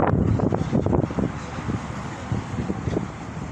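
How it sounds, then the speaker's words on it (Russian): Cold March wind at minus six degrees outdoors in Barnaul buffets the microphone in rough, uneven gusts, with a low rumble throughout. "Ветерок холодный."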